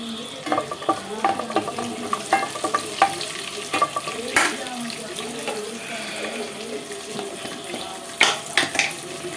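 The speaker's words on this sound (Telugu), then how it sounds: "ఒక నాలుగు లవంగాయలు ఒక చిన్న చెక్క ముక్క వేసేసుకొని ఒక్కసారి కలిపేసేసుకుందాము" Cloves and a piece of cinnamon bark frying in oil as a spoon stirs them, giving a loud close sizzle with repeated scraping and clinking strokes in an irregular rhythm and a faint voice in places.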